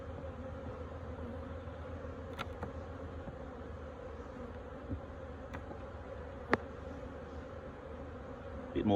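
Bees hum steadily from an opened hive on a frosty, sunny morning, a close, continuous drone with a few brief ticks and knocks over it.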